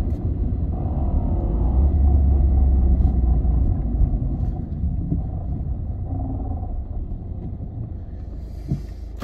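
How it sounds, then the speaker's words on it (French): A Peugeot 207 car driving in second gear after a downshift, a deep low engine rumble close to the microphone that swells early and then settles to a steady hum, with no voices. "Je vais rétrograder en 2."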